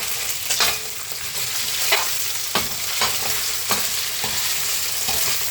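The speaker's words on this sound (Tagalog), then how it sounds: "Ayaw niya nang maingay na sandok" A noisy metal ladle clatters and scrapes through mixed bihon rice noodles in a pan, with repeated clinks over a steady frying sizzle and no talking.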